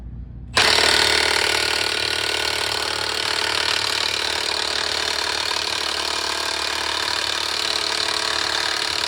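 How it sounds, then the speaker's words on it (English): A Milwaukee 1/2-inch impact wrench kicks in abruptly and hammers continuously on a Toyota 4Runner front wheel bearing, a loud, dense rattling burst that runs close and unbroken for about eight seconds with no talk. "So we got the Milwaukee 1/2 inch."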